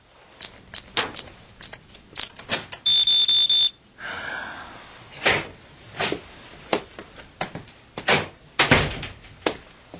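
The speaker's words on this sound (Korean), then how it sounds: "문을 열고 집으로 들어갔다" A radio drama effect of entering a home at night: a digital door lock gives a string of short beeps and a sustained chime, then a door clicks open, followed by scattered knocks and soft thumps.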